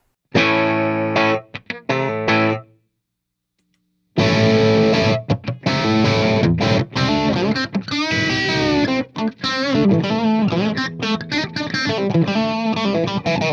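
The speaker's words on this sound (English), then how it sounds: "how the 2020 Distortion wah sounds running into the clean channel of the amp" Electric guitar played through a Morley 2020 Distortion Wah into an amp's clean channel, pedal gain at around 10 o'clock: a short phrase, a pause of silence, then a longer busy riff with sweeping, vocal-like tone.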